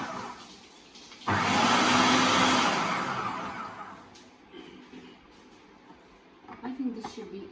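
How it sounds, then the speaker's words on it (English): An Usha FP 3811 1000-watt food processor grinding tomatoes and roughly chopped ginger starts abruptly with a loud, whirring roar that gradually fades and settles, followed by a few softer clatters near the end. "I'm going to see how it's working on grinding my tomatoes"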